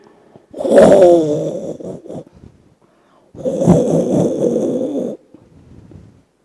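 A voice imitates loud snoring with two long, rasping snores separated by a short pause. Both are close and strong against near silence.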